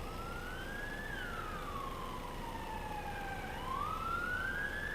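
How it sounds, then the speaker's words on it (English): A wailing police siren in the video game Schedule 1, rising and falling in long sweeps at moderate distance, heard alone over a low steady background. "Sirens are going out. They must be getting somebody."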